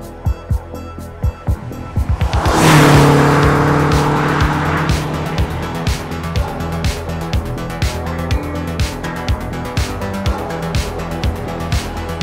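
A Lancia Delta or Toyota Celica rally car runs a special stage on legendary country roads in Östergötland, engine roaring loudly and close, with a burst of tire noise and rapid rhythmic mechanical pulses throughout.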